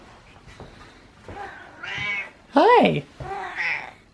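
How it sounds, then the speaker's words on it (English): A cat meows a few times, one loud drawn-out meow standing out, with a brief spoken greeting at the start. "Now we got the meow."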